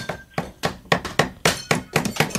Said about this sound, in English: I'm just trying to hammer here